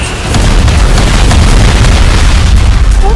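A loud, sustained explosion effect from an audio drama, a deep booming rumble that fills the whole moment with heavy, dense low-end roar and no speech.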